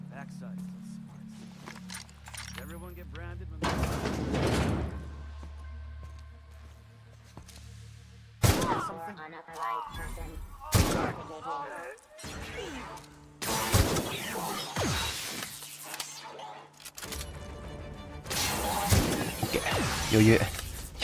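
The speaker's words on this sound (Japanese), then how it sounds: "あんだけ銃声になってんだったらお前らも戦えよ。" Gunfire in The Outer Worlds: Spacer's Choice Edition breaks out in several loud, sharp bursts spread across the stretch, with someone talking in Japanese between and over the shots.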